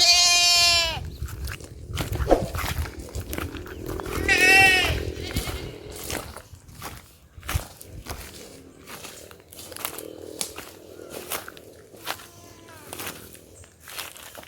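Goats on a farm in Saint Elizabeth, Jamaica, give several loud, wavering bleats near the start and then fainter ones later. Someone talks throughout, with rustling and footsteps in the background.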